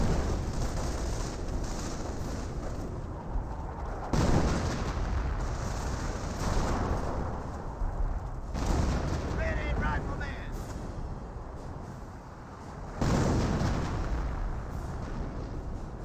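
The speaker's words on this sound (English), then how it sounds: "Got the still got the quad half track firing away." Quad half-track in the Company of Heroes game firing steadily: a dense, continuous rattle of gunfire with heavy booming bursts, under a commentator's ongoing talk.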